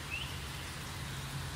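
Steady rain falling outside on a heavy rainy day, an even hiss of drops on surfaces, soft and continuous with a faint chirp near the start.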